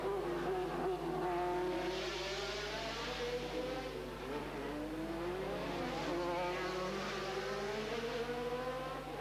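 A 1988 Formula 3000 race car screams around the Pau street circuit, its engine note rising and falling through repeated gear changes and revs, loud and continuous as the stiff car weaves through the turns.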